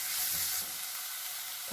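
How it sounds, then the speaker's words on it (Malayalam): Crushed garlic frying in a pan, a steady bright sizzle with soft stirring scrapes, close and alone, easing slightly after the first half second. "2 ടേബിൾ സ്പൂണ് വെളുത്തുള്ളി ചതച്ചത് ഇട്ട് കൊടുത്തിട്ടുണ്ട്. ചേർത്തെടുത്ത് നല്ലപോലെ നമുക്ക് ഇളക്കാം."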